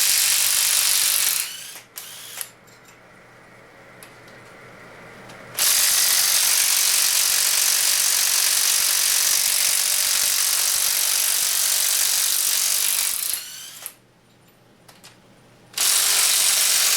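A ratchet wrench loosening cylinder head bolts on a 5.3 engine, with long runs of steady rapid clicking broken by short pauses and pulls, close and loud with no talking.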